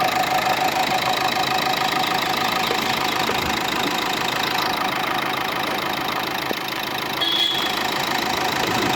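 A 2016 Nissan Terrano engine idles steadily at close range, a continuous even rumble with a faint knocking texture and no talking.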